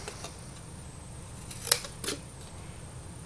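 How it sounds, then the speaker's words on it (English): Scissors trim a stamped paper fruit basket shape for a handmade card, giving a few quiet snips and crisp paper cuts with a sharp click near the middle, against a faint room hiss. "Then you're just going to trim out your fruit basket,"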